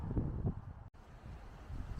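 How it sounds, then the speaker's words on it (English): Strong wind blowing outdoors in Nerrina, Victoria, Australia, a steady low buffeting rumble against the microphone that gusts louder and briefly cuts out before resuming. "it is quite blowy and very windy"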